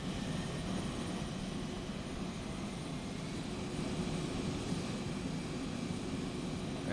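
An aircraft engine in the X-Plane 11 flight simulator, heard around an Airbus A320, produces a steady broadband engine roar that holds at an even level without any clear rise or change.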